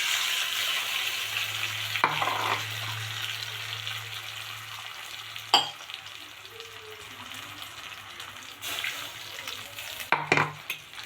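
Close sizzle of spices crackling in a hot pan, with a few sharp clinks of a utensil stirring against the metal.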